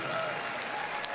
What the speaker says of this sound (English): A big round of applause for one of the most popular breeds in the group